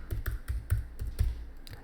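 Keys tapped on a computer keyboard while entering CSS code, roughly eight distinct keystrokes in an uneven rhythm, close and moderately loud, with no voices.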